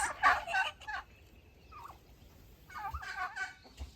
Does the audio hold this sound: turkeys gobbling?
yes